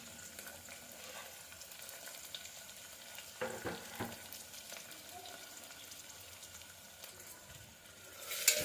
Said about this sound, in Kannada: ಇದನ್ನು ಸ್ವಲ್ಪ ಚೆನ್ನಾಗಿ ಫ್ರೈ ಮಾಡ್ಕೊಳ್ಳೋಣ.